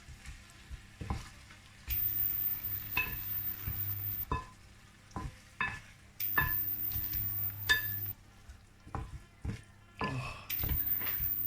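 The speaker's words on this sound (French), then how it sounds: "On va tourner un peu la viande." Lamb pieces with spices and onion for a Soussi tajine sizzle softly in a pan while being stirred, with intermittent scraping and clinking of the utensil against the pan and gentle frying hiss in bursts.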